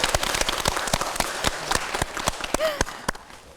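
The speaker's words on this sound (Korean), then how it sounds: "큰 박수 한번 우리 드리고." A small group at a Korean Buddhist temple claps, the individual hand claps sharp and uneven at first, then thinning out and fading to quiet.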